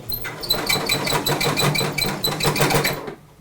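A sewing machine runs steadily, stitching a fabric face mask with a fast rhythmic mechanical chatter, loud and close, before stopping abruptly near the end.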